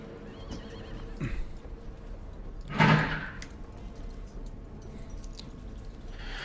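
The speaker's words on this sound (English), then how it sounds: "It sounded like cart horse" A cart horse gives a single loud neigh midway through, with faint hoof clip-clop and a door-like rumble around it.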